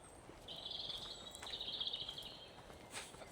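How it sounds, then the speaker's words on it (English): Birdsong in an English wood, with blackbirds and chiffchaffs named, as a faint high trilling phrase sung twice in quick succession, distant and soft over quiet woodland ambience. "What could be more English than the sound of church bells, blackbirds and chiffchaffs"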